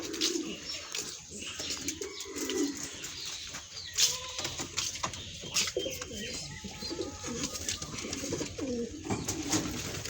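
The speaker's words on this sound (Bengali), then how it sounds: "আমার কবুতরের বাচ্চাগুলো কেমন আপনাদেরকে দেখেন" Pigeon chicks in a pigeon coop coo in soft, repeated low throaty calls that run through the whole stretch. A few faint flutters and chirps mix in close to the microphone, with no talking.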